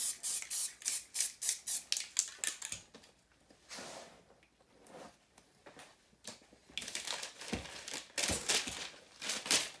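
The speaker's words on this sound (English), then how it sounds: "the paint that I use is a water-based, non-toxic variety spray paint" Cans of water-based, non-toxic spray paint hiss in rapid short bursts while making spray paint art, first a quick run of close sprays, then a quieter stretch of faint rustling, then another cluster of bursts.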